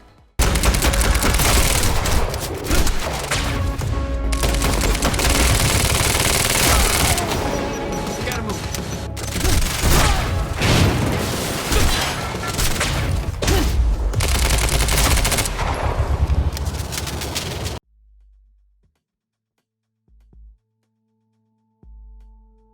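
Sustained gunfire from the Quantum Break video game: dense, loud bursts of shots and impacts rattle almost nonstop for about eighteen seconds, then cut to near silence with faint electronic tones.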